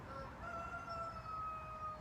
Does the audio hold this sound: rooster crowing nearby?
yes